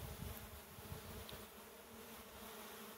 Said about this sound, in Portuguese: E aqui as abelhas já tomam e já vão reto para a caixa.